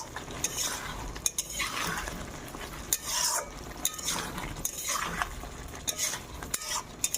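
Spatula scraping and clinking through vegetables in a pan for vegetarian khichuri, repeated strokes every second or so over a low sizzle, close and without speech.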